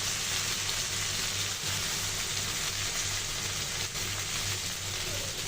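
Okra (bhindi) fries in oil with chopped onion and green chili, giving a soft, steady sizzle and crackle throughout, fairly faint, with no talking.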